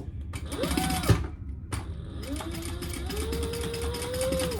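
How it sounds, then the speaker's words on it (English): A sewing machine stitches a bag seam in two runs: a short whirring burst, a brief pause, then a longer steady motor whine with rhythmic needle clatter. Close and clear, with no talking. "So I'm just sewing that on the outside."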